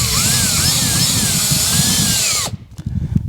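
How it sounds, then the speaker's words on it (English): A power drill boring through vinyl siding on a new construction home, a loud steady whining run for over two seconds that cuts off abruptly, followed by brief knocks and handling noise. "I'm going to drill the top of this first"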